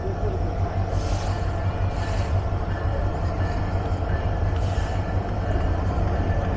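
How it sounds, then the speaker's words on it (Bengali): Nilsagar Express, hauled by a Class 66 series locomotive with Chinese-built coaches, rolling into Santahar Junction platform, a loud continuous low rumble of wheels and engine with occasional hissing air bursts. "সান্তাহার রেলওয়ে জাংশনের 2 নম্বর প্ল্যাটফর্ম ধরে প্রবেশ করছে 66 সিরিজের লোকোমোটিভ এবং ইনকা চাইনিজ কোচ নিয়ে উত্তরের আরও একটা জনপ্রিয় আন্তনগর নীলসাগর এক্সপ্রেস"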